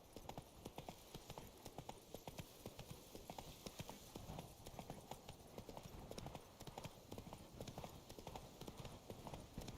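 The horse Roach galloping in The Witcher 3: Blood and Wine, a fast, even drumming of hooves that stays close and steady from start to finish.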